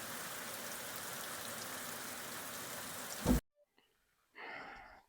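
Heavy rain pours steadily over a field where soy has just been sown, a dense loud hiss for about three seconds that cuts off abruptly, leaving near silence before another softer burst of sound.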